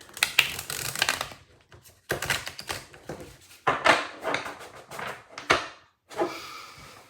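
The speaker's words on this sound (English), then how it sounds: "I'm going to give one more shuffle, even though I did a lot." Tarot cards being shuffled, several loud bursts of riffling and slapping cards in uneven rhythm, each burst followed by brief quieter handling, with no voices.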